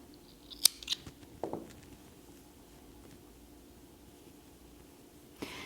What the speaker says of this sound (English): You're going to go ahead and cut your yarn.